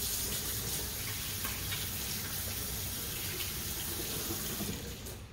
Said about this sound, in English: So I'm going to quickly wash my hands